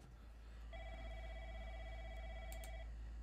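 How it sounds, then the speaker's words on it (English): A telephone rings in a short horror video game, a steady electronic ring lasting about two seconds over low background rumble, alone without talk. "Oh, the phone's ringing."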